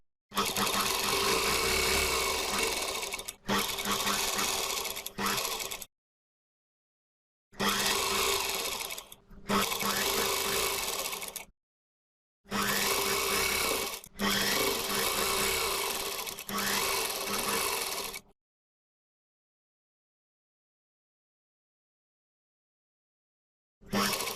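A sewing machine stitches lehenga fabric in several steady, loud bursts of a few seconds each, with short pauses between them and a long stretch of silence near the end.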